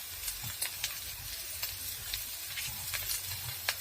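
Spices sizzling in a pan for a vegetarian aloo fulkopi paneer dish, a close, steady crackling hiss with small popping bursts and the occasional stir.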